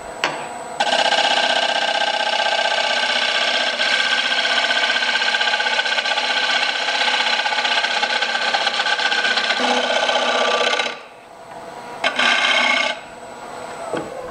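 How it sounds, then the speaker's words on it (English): Spindle gouge cutting the surface of a rough-turned elm bowl on a wood lathe: a steady loud scraping hiss for about ten seconds, then a brief pause and a short second cut. "I'm gonna take a spindle gouge and cut this surface."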